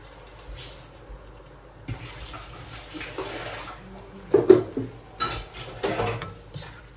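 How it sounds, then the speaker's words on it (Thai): Rice noodles for pad thai are tossed and stir-fried in a pan, with utensils scraping and clinking against the metal in irregular bursts, close up and with no voices. "ผัดคลุกเคล้าไปค่ะ เส้นนี้สุกง่ายด้วยนะคะ"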